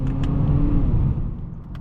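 A 2021 Acura ILX A-Spec with a dual-clutch transmission accelerates from inside the cabin, its engine a steady low hum that dips briefly around a gear change before carrying on.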